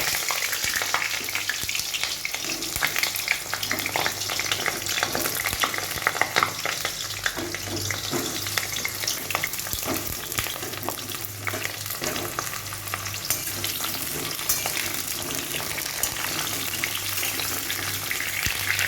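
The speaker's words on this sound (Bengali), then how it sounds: "তেলটা গরম হয়ে গেছে, আমি এবারে পটলগুলো সব ভেজে নেব।" Pointed gourd (potol) pieces sizzle and crackle in hot oil throughout, a steady close frying hiss with occasional stirring scrapes.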